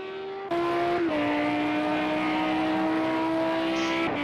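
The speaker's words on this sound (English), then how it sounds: "that car sounds good, though" A race car engine in Project Cars 2 holds a loud, steady high drone from start to finish, stepping up sharply as gears shift, with a brief tire squeal toward the end and no voices.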